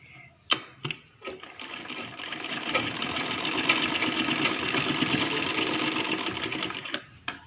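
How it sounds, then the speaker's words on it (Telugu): Electric sewing machine stitching the shoulder seams of a cotton baby frock, a fast steady whirring run of stitches after a few short starts and stops, fairly quiet and close. "ఈ విధంగా స్టిచ్ చేసుకున్న తర్వాత ఫ్రంట్ పార్ట్ బ్యాక్ పార్ట్ అనేది భుజాలు జాయిన్ చేసుకోవాలి"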